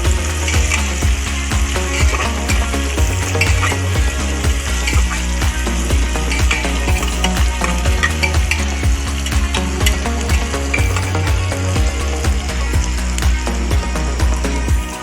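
Onions and mutton frying in a pan for a mutton curry, a loud, steady close sizzle with a busy crackle that continues without pause.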